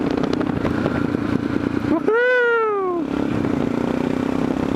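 Aprilia Pegaso motorcycle engine droning at a steady pitch while being ridden, broken in the middle by the rider's loud whooping shout before the engine note returns.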